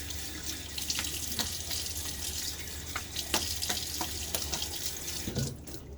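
A Gillette Slim safety razor is rinsed under a running tap at a sink, with a steady close stream of water broken by a few sharp knocks and splashes as the razor is moved through it.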